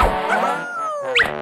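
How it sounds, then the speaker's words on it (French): A small dog in a French animated series whimpers in a long, wavering high whine that slides downward, then ends with a couple of sharp yips, close and alone. "Non, attends un peu, c'est un chien."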